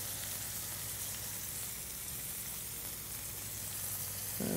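Red onions and apple smoked bacon sizzling in a pan, a dense, steady frying hiss throughout, close and continuous with no voices.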